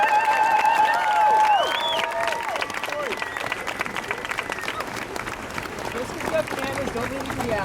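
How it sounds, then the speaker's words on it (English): Audience applause and cheering at an Occupy Boston gathering, a dense crowd clapping steadily near the listener, with whistles and shouts rising over it before it thins into scattered clapping and murmured voices. "So let's give him a big hand of applause."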